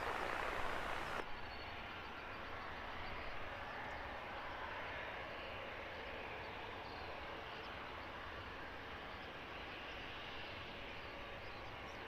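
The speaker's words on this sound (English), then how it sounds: "Ryanair number 2, another 737 MAX 8. This one's flight 1813 off to Krakow." A Ryanair Boeing 737 MAX 8 jet departing Luton Airport, a steady broad roar of engine noise heard from a distance, sustained at a fairly even level for the whole stretch with no talking.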